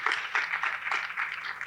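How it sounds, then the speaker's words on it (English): Audience applause at the Decent Africa Summit 2024 in a hall, a short burst of many hands clapping at moderate volume, fairly even and sustained throughout. "Applause for her."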